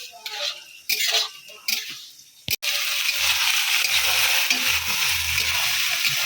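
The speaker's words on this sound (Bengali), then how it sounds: "এটাকে একটু ভালো করে নাড়াচাড়া করে নেব" Papaya and dates get stirred in a cooking pot, with clattering utensil scrapes and rustles close by at first, then a sharp knock followed by a steady sizzling hiss with low rumbling underneath.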